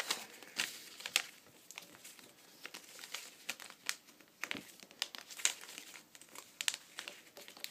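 Paper being folded by hand, close soft crinkles and creasing rustles in irregular bursts, fairly quiet with no talking.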